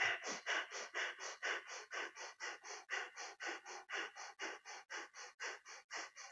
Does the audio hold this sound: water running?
no